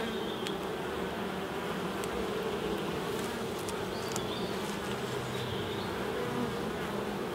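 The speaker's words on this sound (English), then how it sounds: "There's a lot of bees in here." Dense, steady buzzing of many honeybees swarming close together in a hive, a continuous insect drone with no voices.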